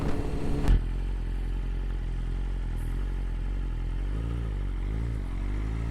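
A 2025 BMW S1000RR M Sport motorcycle engine with a quick shifter runs close by, a steady low mechanical drone after a brief sharp knock at the start, its pitch wavering slightly near the end.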